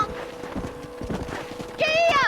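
Horse hooves clip-clop in a quick rhythm while riding in Red Dead Redemption, close and steady, then a loud whinny rises over them near the end.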